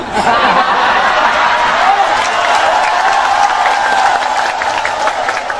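A crowd at a humorous religious sermon claps loudly and steadily, with scattered chuckles and laughter mixed into the sustained applause of many hands.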